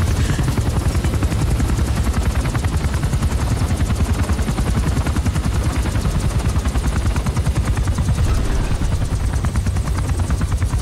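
Loud, close helicopter rotor in the Metal Gear Solid 5: The Phantom Pain video game, a fast, steady chopping thump that continues without a break and covers everything else, with no talking.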